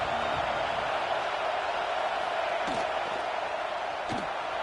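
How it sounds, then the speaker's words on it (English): A stadium crowd roars continuously at a college American football game, a dense, loud wash of cheering with a few faint thuds and whoops inside it. "The roar of the crowd trying to fuel this defense to keep them pinned in their own end."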